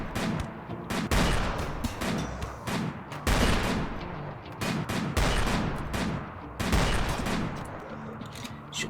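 Video game gunfire: heavy, loud volleys of shots in dense clusters, separated by brief lulls, close and booming with a deep low-end thump on each burst.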